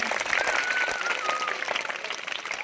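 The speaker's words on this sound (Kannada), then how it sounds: "ಚಪ್ಪಾಳೆ ಬಿಡಬೇಕು ಮಕ್ಕಳು ಚಪ್ಪಾಳೆ ಹಾಕಬೇಕು" Children at a school Children's Day celebration clap together in a steady, dense patter of applause, continuous through the moment with a thin tonal whine running over it.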